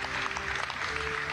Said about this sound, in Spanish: Aplaudan a Tare, vale.